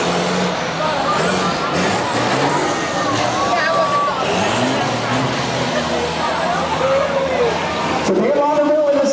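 Buses racing on a dirt track, including the Shark Cutter and the numbered 69, X1, 3, 10 and 2 buses, with loud continuous engine roar, hisses and squeals throughout and a commentator talking over it.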